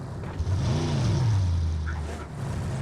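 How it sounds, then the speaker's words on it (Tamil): A motor vehicle engine in a video game comes up from behind with a rising, revving pitch that swells loud and close, then holds steady near the end. No one talks over it. "பின்னால வண்டி Watch out."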